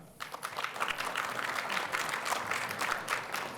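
Steady applause from an audience voting by clapping at a Shark Tank-style pitch event, a sustained wash of many hands that swells in quickly and holds at even volume.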